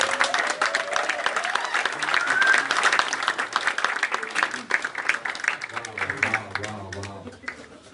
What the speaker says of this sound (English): with a resounding round of applause, please help me welcome the one and only reigning WWE World Champion, Kofi Kingston